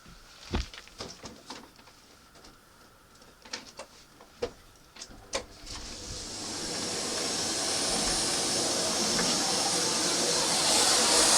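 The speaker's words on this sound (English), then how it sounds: "I'm just going to vacuum it out." A few scattered clicks and knocks of handling come first, then a vacuum cleaner starts up and sucks out a box, its rushing hiss swelling and holding steady and loud to the end.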